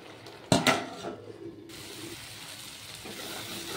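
A lid clatters onto a pan of curry made with ridge gourd and egg, one sharp metallic clank and a brief rattle, then a low, steady simmering hiss continues alone.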